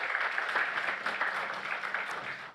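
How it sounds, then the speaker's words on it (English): Steady, dense applause from the audience at the opening ceremony of a credit union summit, heard at moderate distance as a continuous wash of clapping. "Can we give ourselves a round of applause?"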